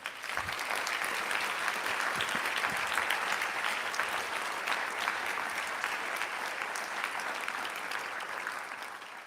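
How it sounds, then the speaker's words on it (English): Sustained audience applause after a presidential lecture by the President of the European Council, a steady dense clatter of many hands that holds at an even level for the whole stretch, with no talk over it. "can we give our distinguished guest and Madam Director General a round of applause?"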